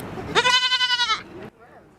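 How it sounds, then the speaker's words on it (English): Baby goats at a local preserve give one loud, close, wavering bleat with a rippling vibrato lasting about a second, followed by a softer trailing sound. "Of course, we're talking about baby goats, which, if you did not know, are also called kids."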